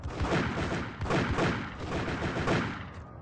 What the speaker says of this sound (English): Oh, wait, who's shooting at me?